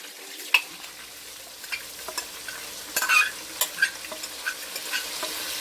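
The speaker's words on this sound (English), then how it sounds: "what I'm gonna do is add the rice" Washed brown rice going into a pot of browned chicken, a faint sizzle underneath a string of light stirring clicks and scrapes, close and quiet with no speech.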